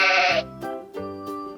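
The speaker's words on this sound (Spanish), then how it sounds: "Al parecer nos está llamando la oveja." A sheep on a farm gives a loud, close bleat, then a few shorter, quieter bleating calls follow in quick succession.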